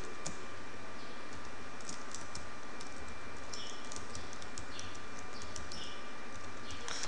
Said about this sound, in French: Je vais d'abord taper le code.